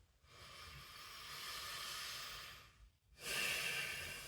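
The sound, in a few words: person taking a deep breath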